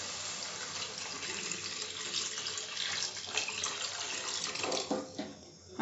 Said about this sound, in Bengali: আমি 3 কাপ জল দিলাম।